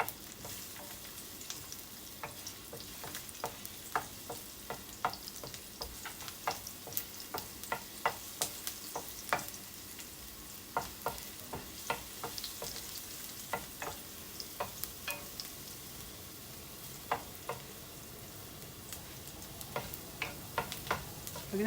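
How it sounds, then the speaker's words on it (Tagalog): Garlic frying in a pan, a continuous close sizzle dotted with sharp pops and crackles at an irregular pace throughout, with no talking. "Lalagay na natin tong garlic. So, hintayin lang natin siyang mag-golden brown."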